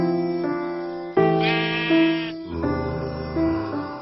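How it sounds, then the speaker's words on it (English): Sheep bleating in the video game Minecraft, several drawn-out wavering bleats in sequence, clear and close, with no talking over them. "Hello there, sheep."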